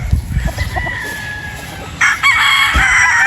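Pure Boston Roundhead rooster crowing loudly and close, a drawn-out strained call rising over a couple of seconds and breaking into a brighter, harsher burst near the end.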